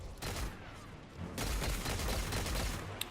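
Pistol gunfire from Destiny 2 during PvP play, a dense run of shots in two bursts with a short lull near the middle and a sharp crack at the very end, no voices.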